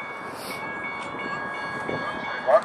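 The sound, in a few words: streetcar passing on Tilikum Crossing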